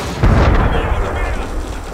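A smoke bomb goes off in the video game Assassin's Creed Unity, a single deep, loud boom that rolls into a dense, rumbling hiss and fades slowly.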